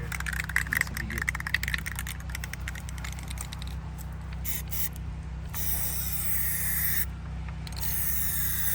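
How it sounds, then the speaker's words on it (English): Aerosol can of PlastiDip glossifier spraying a coat over Ford F150 side emblems, a hissing spray in bursts with short gaps, over a steady low hum. "we're gonna go ahead and put this glossifier on there because this will protect it from the sun too"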